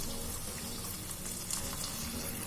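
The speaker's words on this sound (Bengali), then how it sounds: "এবার আমি জল দিয়ে দিচ্ছি।" Water poured into a pan of pointed gourd curry, a continuous splashing hiss mixed with sizzling, steady and close throughout, with no voices.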